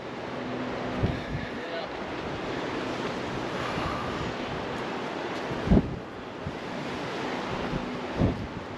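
Strong wind roars steadily across the open lakeshore at Old Fort Niagara, buffeting the microphone with continuous rushing noise and a few low thumps.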